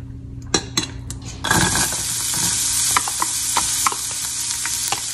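Onions hitting a hot pot for Southern-style collard greens with bacon, a sudden loud sizzle that holds steady as a bright hiss, broken by a few clinks and scrapes of a stirring utensil against the pan.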